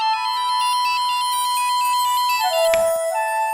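A phone ringtone plays loudly and alone in a domestic drama scene, a repeating electronic melody of short bright tones with a sharp click near the end.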